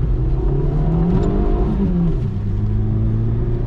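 A 1992 Citroen ZX 1.4i with 75 hp revs hard at full throttle in second gear, a loud, steady engine drone that climbs in pitch, dips briefly around a gear or load change, then settles into a sustained rumble.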